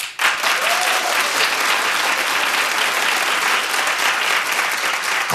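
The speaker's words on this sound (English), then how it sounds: "Clap if you're watching." A studio audience at a daytime talk show claps loudly and steadily in a dense, continuous wash that fills the whole stretch, with no voices standing out.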